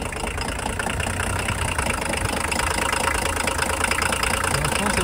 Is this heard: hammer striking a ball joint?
no